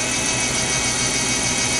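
A cordless drill with a weakening battery spins a vacuum motor during a voltage test, giving a loud, steady whirring roar that holds constant from start to finish with no talking.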